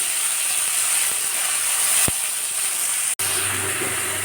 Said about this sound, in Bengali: এই তেলেতেই আমি চিংড়ি মাছগুলো ভেজে নেব